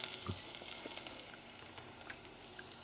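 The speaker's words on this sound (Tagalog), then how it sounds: "ilalagay ko na dito yung bawang at sibuyas" Garlic and onion hit a hot pan while cooking chicken liver adobo, giving a steady, close hiss of frying with a few scattered pops and crackles throughout.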